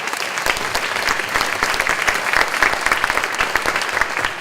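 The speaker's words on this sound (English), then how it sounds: "Give them a round of applause." An audience at a school superintendent's community conversation breaks into a round of applause, many hands clapping in a dense, steady patter that carries on evenly without any speech.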